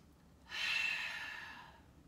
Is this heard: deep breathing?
yes